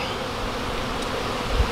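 A dense swarm of bees in a hollow bee tree hums in a steady, close, continuous buzz that fills the whole stretch, with no voices.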